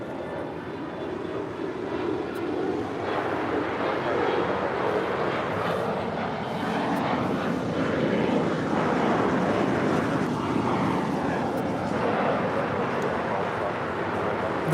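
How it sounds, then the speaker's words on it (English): A Qatar Airways Airbus A350-1000 arriving from Doha on short final into a major airport, its engine noise a broad, swelling rumble that builds and stays loud, mixed with wind buffeting on the microphone. "Qatar Airways Flight 739 coming in from Doha, A350-1000, now in short funnel for 24 right"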